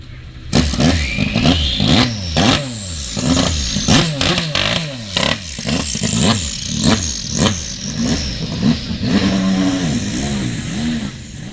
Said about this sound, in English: Ford GT, though, certainly does make a rather unique noise.